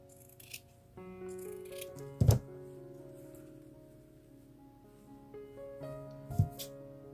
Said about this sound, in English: So I'm going to cut just a little bit off on the edges.